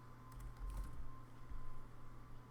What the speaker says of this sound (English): as I was typing these names out